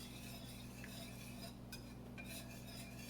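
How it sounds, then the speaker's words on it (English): Whisk stirring a lumpy cheese Alfredo sauce in a pot, a soft steady scraping swirl, faint and close, with no talking. "it's okay if it's lumpy because we're going to work out those lumps and get our workout on while we continue to whisk this up here"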